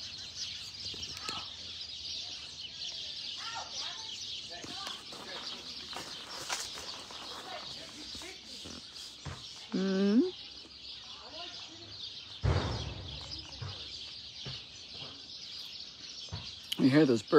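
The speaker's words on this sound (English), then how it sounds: "You hear those birds." Faint bird calls and chirps outdoors beneath a person talking, with a few brief louder clucking calls near the end.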